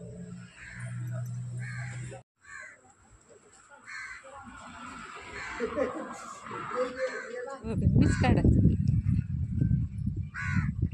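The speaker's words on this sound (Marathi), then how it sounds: "कावळा कुठं वर आहे बघा" A crow caws several times near a small temple beside a large bael tree, sounding fairly close amid people talking and background noise, with a louder rustling burst toward the end.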